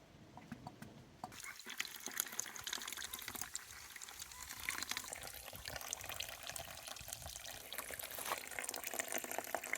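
Homemade apple wine is siphoned through a hose lowered partway into the vessel above the sediment, making a continuous close trickling and gurgling flow with small splashes throughout.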